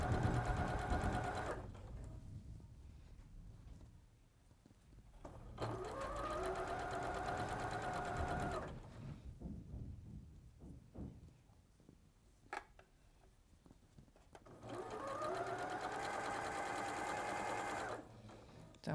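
A domestic sewing machine runs in three long steady bursts while stitching along a seam where two fabric pieces were joined, a close whirring hum with quiet gaps between runs and no speech.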